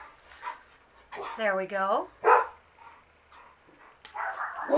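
A dog barks and whines in a few short bursts close by, while a person speaks briefly in between.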